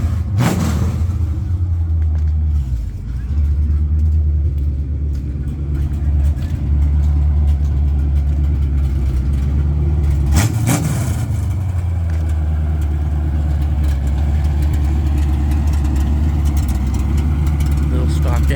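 A stock-engine Ford Mustang coupe idles steadily with a deep, continuous low rumble, close and fairly loud, with a couple of brief revs or bumps partway through.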